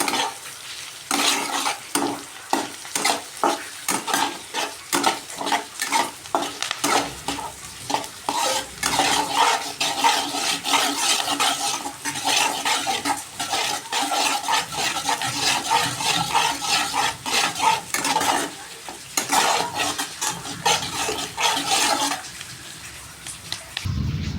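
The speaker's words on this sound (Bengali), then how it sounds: "কেটে রাখা কাঁচা লঙ্কা ভালো করে নাড়াচাড়া করতে হবে" Busy stirring and scraping of green chillies frying in a pan over a steady oil sizzle, continuous and close, with rhythmic clatter throughout.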